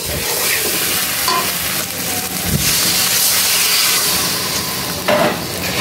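Meat being stir-fried in a pan during kosha cooking, with a steady loud sizzle and hiss throughout, brief scraping stirs, and a sharper burst near the end; no talking.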